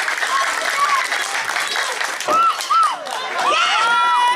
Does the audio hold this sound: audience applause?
yes